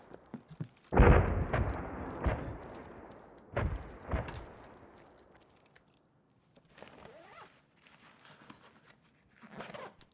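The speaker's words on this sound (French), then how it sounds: "putain d'explosion." A loud explosion in the video game Escape from Tarkov opens with a sharp blast, then a rumbling tail and scattered crackling bursts that fade away in the distance.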